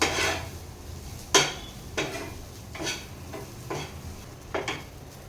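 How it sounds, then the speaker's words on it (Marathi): Dried Bombay duck chutney with lemon juice is stirred by hand in a pan, a series of soft scraping strokes in an irregular rhythm, close and quiet with no talking. "लिंबाचा रस घातल्यानंतर परत एकदा ते मिक्स करून घ्यायचं आहे"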